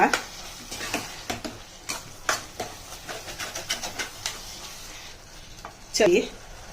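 Tomatoes frying in a pan for a tomato kurma, with a steady close sizzle broken by repeated scraping stirs and utensil clatter, and a louder clatter near the end.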